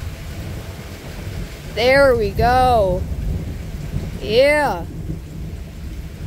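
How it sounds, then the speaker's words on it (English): Loud thunder rumbles from a strong thunderstorm with lightning, rolling bursts close by under a steady rain-like background, while a person speaks briefly over it. "That's gonna bring some loud thunder."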